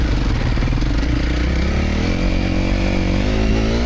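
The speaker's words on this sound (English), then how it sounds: "revved up the engine and slipped in the clutch like Erwin taught me" A Honda CRF250L/CRF300L dual-sport motorcycle in second gear pulls uphill with its engine revved and the clutch slipped, giving a loud, continuous buzzing drone that climbs slightly in pitch throughout.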